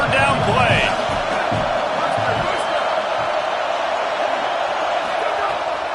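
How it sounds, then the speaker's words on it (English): A packed college football stadium crowd roars in a steady loud wall of noise during a big third down play, sustained throughout with faint whistles and shouts poking through. "Big noise in the big house for this huge 3rd down play."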